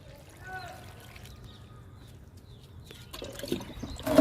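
Homemade liquid fertilizer, a mix of two kinds, poured onto moringa plants, building into a splashing, trickling pour near the end after a quieter stretch with faint voice-like sounds.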